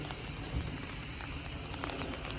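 Steady rain falls across an outdoor park in Switzerland, a soft, even patter and hiss of drops on surfaces and trees filling the whole stretch without a break, with no voices present.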